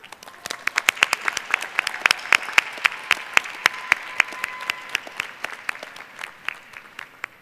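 Graduates at a college diploma ceremony receive applause from a modest audience, with sharp individual claps standing out over a lighter steady patter, fairly close and moderately loud.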